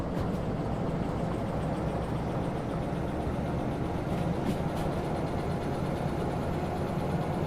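A train running in the video game Derail Valley, a continuous low rumbling engine drone with steady mechanical noise and no speech.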